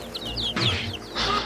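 A rooster or chick clucks in a quick series of short, bright calls, fairly close and alone, with no talk over it.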